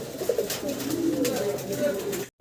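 Low, soft cooing of pigeons runs steadily throughout, close by, with a murmur of voices in the background.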